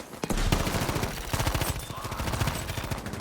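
Rapid automatic gunfire in a first-person shooter video game, with dense bursts of shots fired in quick succession, loud and continuous with brief breaks.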